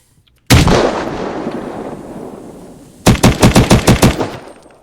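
A single loud gunshot from a video game rings out and decays, then a rapid burst of about nine automatic shots follows in a tight rhythm, close and sharp.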